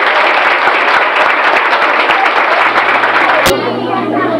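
Loud, sustained applause from a crowd at a village cultural festival, honoring a young poetry winner, steady throughout with a sharp knock near the end as the clapping eases.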